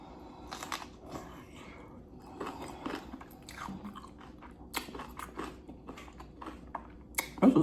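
A crunchy spicy sushi boat with avocado is bitten and chewed up close, giving a run of sharp crisp crunches and softer chewing sounds with pauses between bites and no talking.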